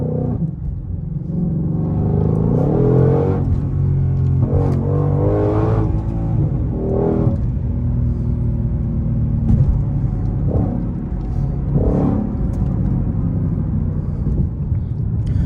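A Ford Mustang GT500 engine rumbles steadily and blips its revs in repeated rising surges during rev-matched downshifts, loud and close throughout with no talking.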